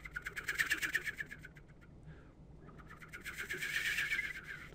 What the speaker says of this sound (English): That's the snipe with its tail feathers making that noise.